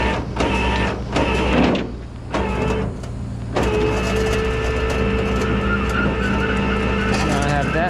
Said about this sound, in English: That one keeping the winch cable spooling straight.